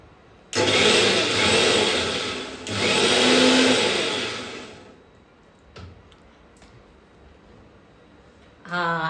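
A kitchen mixer grinder whirs loudly in two bursts while blending mango chunks into lassi, then stops; a brief clatter and faint sounds follow, and the motor starts up again at the very end.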